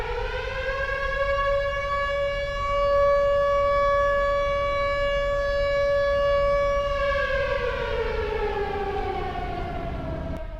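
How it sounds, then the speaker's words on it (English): Air raid siren of the kind heard at the start of an attack in war films, a steady loud wail holding pitch for several seconds before sliding slowly downward, sounding alone with no voices. "Those creepy sirens."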